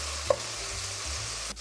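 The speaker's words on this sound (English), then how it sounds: "we're going to continue to cook our ground beef until it's all the way brown" Ground beef browns in a pot with a steady low sizzle throughout, a single light tap of a utensil early on and a soft stirring scrape near the end.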